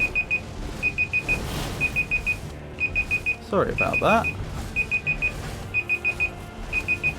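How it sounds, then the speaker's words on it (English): An alarm clock beeps in groups of four quick, shrill bursts that repeat steadily through the whole stretch. It keeps going under a voice as he briefly apologizes. "The bigger annoyance here is I can't stop the alarm."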